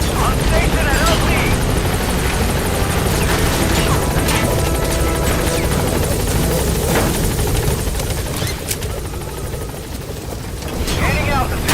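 In Metal Gear Solid V, a helicopter comes in to a landing zone with a loud, continuous rotor roar and whine that barely fades, while voices talk over it.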